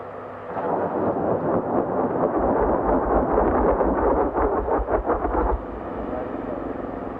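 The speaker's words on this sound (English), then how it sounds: "24 rockets rain down with deadly precision." Twenty-four rockets from an Indian Air Force advanced light helicopter hit targets during a Vayu Shakti firepower exercise, producing a sustained loud roaring rumble of overlapping blasts that swells for several seconds, then drops to a steady lower drone.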